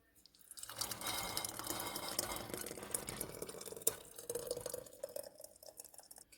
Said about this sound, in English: so I'm gonna try to go ahead and pour this neatly